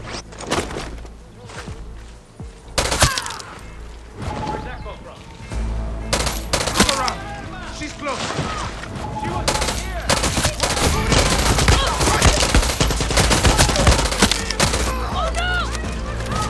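Gunfire in the shooter game Far Cry 6 as a commander is shot, with repeated loud sharp shots and rapid bursts scattered across the clip over busy combat noise.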